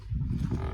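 A water buffalo that has just calved on a farm gives a brief, deep, close lowing call, loud and throaty, with no voices.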